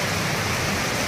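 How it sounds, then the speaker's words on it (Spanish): Rain falls steadily outdoors, a dense even hiss of drops with no breaks or other distinct sounds over the short stretch. "Llueve, si lo es, y te para un minuto."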